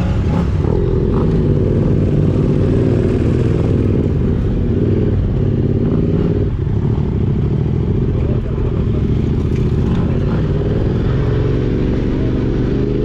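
A motorcycle engine on the island of Evia, Greece, roars close and loud in first gear, its deep rumbling drone surging slightly as the throttle opens, with occasional clatter.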